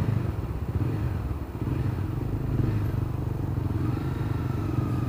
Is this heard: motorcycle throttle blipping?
yes